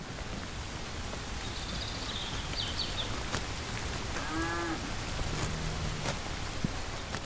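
A few cows low in the distance over a steady hiss of falling rain, with a higher call or two mixed in.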